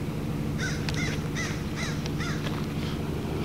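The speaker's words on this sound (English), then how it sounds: "Oh, Blackbird. There's a bad omen." A crow caws six times in a steady series, fairly clear over a constant low hum of wind and distant traffic in a city cemetery.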